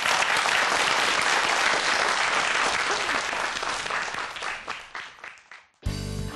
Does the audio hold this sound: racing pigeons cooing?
no